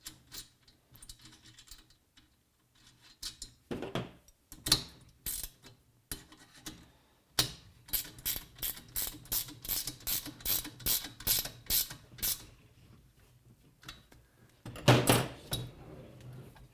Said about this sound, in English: Hold it and then tighten.